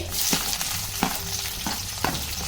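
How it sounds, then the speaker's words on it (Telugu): Seeds fry in about two spoons of hot oil in a pan, a dense close crackling sizzle with three sharp spoon or pan taps spaced about a second apart. "ఒక 2 స్పూన్లు ఆయిల్ వేసుకుందాం. గింజలు వేసుకుందామండి"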